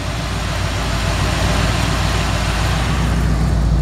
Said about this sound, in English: I just want to let you hear the engine run.